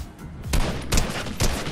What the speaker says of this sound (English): Something with actual rapid fire.